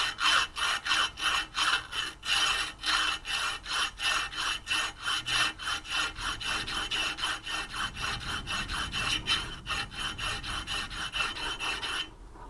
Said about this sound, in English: Then I polish the safe edge with a strip of emery cloth, 400 grit and then 600 grit.